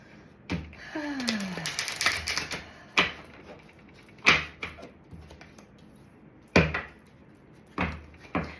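Tarot cards being shuffled during a Gemini reading, heard as a series of sharp riffling bursts and taps, close and fairly loud, separated by quieter pauses with no talking.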